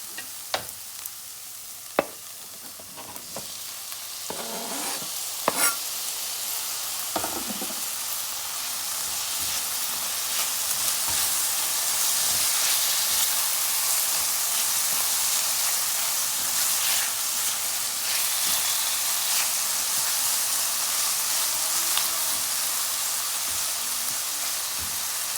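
Tomatoes hit a hot pan with ginger and garlic and sizzle into a steady, broad frying hiss that builds and holds. A few stirring clanks come early, and there is no speech.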